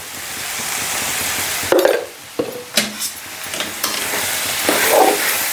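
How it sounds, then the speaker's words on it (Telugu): A spoon stirs prawn and brinjal curry in a pan, giving loud, close scraping and sloshing strokes over a steady sizzle, with several distinct knocks against the pan. "మంచిగా కలుపుకొని మూత పెట్టుకోవాలి."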